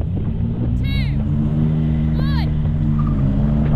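BMW M4 CSL and Alfa Romeo Giulia GTA idling and revving at the start line of a drag race, a steady engine drone with a couple of quick rising squeals over it and voices talking nearby.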